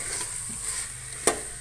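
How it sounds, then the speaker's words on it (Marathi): Chickpeas sautéed in a cooker pan give a steady crackling sizzle with soft stirring scrapes, close and continuous, with one sharp clink of the spoon near the end. "हे आपले छोले आपण छानपैकी परतवून घेत आहोत"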